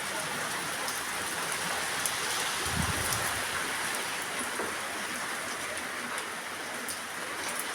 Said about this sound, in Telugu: చూడండి వర్షం ఎంత పెద్ద వర్షం వస్తుందో.